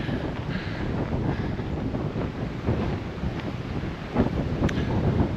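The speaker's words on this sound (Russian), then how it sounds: "Очень сильный ветер." Strong winter wind buffeting the microphone on the rocky Stolby pillars near Krasnoyarsk, a continuous rumbling roar with gusty surges and no voices.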